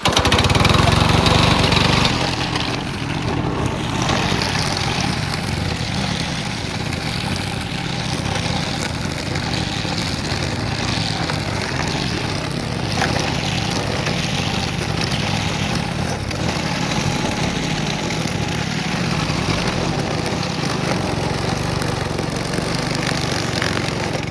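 A Cub Cadet string trimmer runs steadily and loudly close by, its engine droning continuously while it cuts weeds, with a slight dip in pitch early on and no talking.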